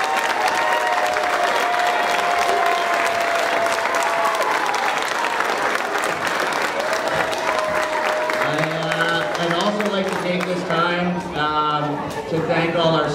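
Audience applause at a school winter concert rolls on steadily and loudly for the whole stretch, with a voice speaking over the clapping toward the end.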